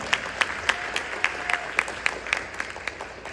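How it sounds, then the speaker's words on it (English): Sparse applause from a small audience at a State of the City address in East Orange, with distinct individual claps standing out over a thin, steady patter; only a handful of hands seem to be clapping. "Give yourself a round of applause."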